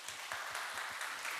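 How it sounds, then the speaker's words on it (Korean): Church congregation clapping together on a Sunday, a steady, moderately loud patter of many hands filling the room, with no talking over it. "격려의 박수입니다."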